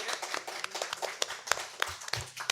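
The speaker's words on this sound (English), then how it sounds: "Let's have a round of applause," A small audience gives sparse, scattered hand claps for a celebrity reader at a book reading event, with sharp individual claps close by and uneven in rhythm.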